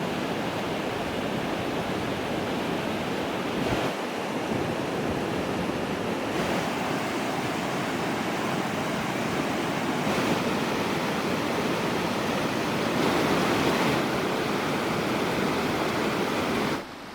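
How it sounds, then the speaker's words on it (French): River water flowing steadily at a wilderness camp in Georgia, a constant broad rushing wash that stays close and even for the whole stretch with no voices. "donc c'est l'eau de la rivière"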